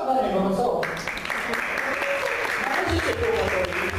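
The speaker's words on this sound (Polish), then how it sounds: "No brawa dla niego" Dense clapping from a convention panel audience rolls on throughout, steady and fairly loud, with a brief change in tone near the start.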